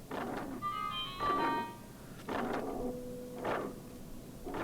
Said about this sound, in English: Oh, there's someone banging on the door there.